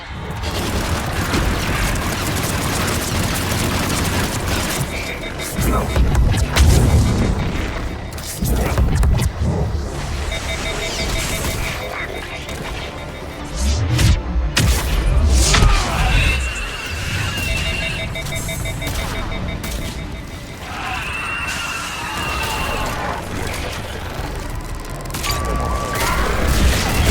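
Missile strikes in the Mass Effect 3 video game boom and crash in repeated heavy explosions over dense rumbling battle noise, with electronic beeps and mechanical clatter between blasts.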